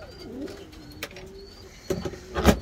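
A young male pigeon kept apart in a Valencia loft coos softly and low, a few murmuring calls with faint background noise and a louder rustle near the end.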